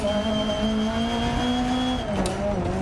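Rally car in Dirt Rally 2.0 rallycross racing game accelerating hard, a loud steady engine drone with rising pitch, a brief dip and gear shift near the end, no talking.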